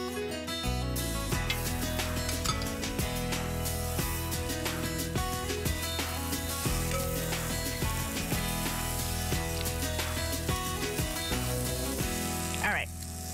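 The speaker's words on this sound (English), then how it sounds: "my grill pan should be hot, so let's get the veggies on the grill" Vegetables hit a hot grill pan and sizzle loudly and steadily, with crackling bursts and occasional scraping, holding an even level throughout.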